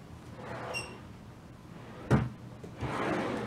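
An ink-storage drawer in a craft room slides open with a quick wooden thump, followed by a soft rustling scrape as it settles, in a quiet room.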